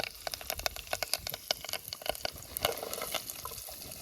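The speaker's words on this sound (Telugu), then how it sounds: "ఇప్పుడైతే ఎండబెట్టిన వెదర్ కంజ అయితే కూర వండుతున్నామండి" Onions sizzle and fry in a pan for a dried bamboo shoot curry cooked at a hillside tribal campsite, a steady crackling hiss broken by repeated scraping stirs close by, with no voices.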